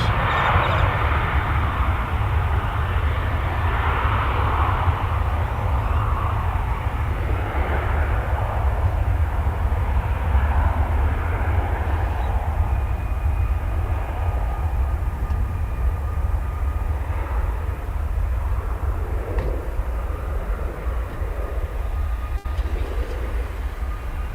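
A Boeing 737-800 accelerates down the runway at DFW Airport for takeoff, its jet engines a loud, sustained roar with a heavy low rumble that holds steady throughout.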